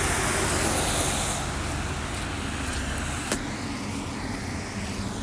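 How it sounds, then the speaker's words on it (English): Steady road traffic with trucks rolling past outdoors at night, a continuous broad roar staying moderately loud throughout, with one brief sharper swell midway. "There's a lot of trucks out here for some reason."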